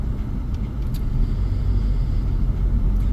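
Car tires rumbling on a road, a steady loud low roar of passing vehicle noise that holds for a few seconds, close and continuous, with no speech.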